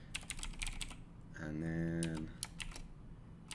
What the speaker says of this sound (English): I'm trying to type really quietly.